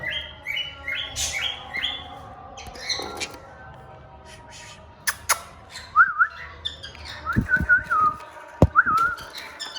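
Budgerigars in a rooftop breeding aviary chirp and warble close by, short bright calls scattered at first, then busier chattering with sharp clicks and taps from the cage.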